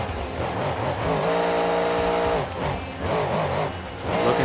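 A monster truck in BeamNG.drive roars with a loud, sustained engine note that rises and holds, tires squealing and revving through a freestyle run, close and with no talk.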